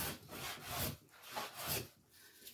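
Thin one-thou wood shavings pared off a small section by hand, a soft scraping rasp in repeated strokes, close and fairly quiet, with no talking.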